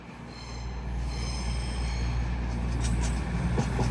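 A four-carriage Class 220 train at Doncaster station gives a steady, low rumbling drone with a faint mechanical hum, holding fairly even throughout.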